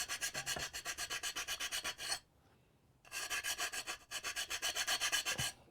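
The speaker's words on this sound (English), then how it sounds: "file this little nub" A small file rasping down a nub on a ceramic tile in a narrowboat galley kitchen: quick rhythmic back-and-forth strokes, close and crisp, in two bursts split by a short pause.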